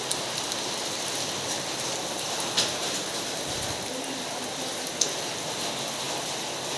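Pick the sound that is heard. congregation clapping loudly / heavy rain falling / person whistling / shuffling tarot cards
heavy rain falling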